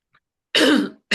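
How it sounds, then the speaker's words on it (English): A person in a dusty basement gives a single loud, close cough and throat clear lasting about half a second, followed by the start of another. "there's dust or something that's making me cough."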